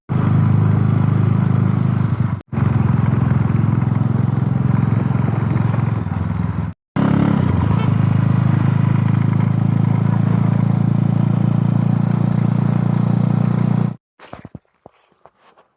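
A motorcycle engine runs steadily and loudly up close for about fourteen seconds, with two brief dropouts, then cuts off into faint clatter.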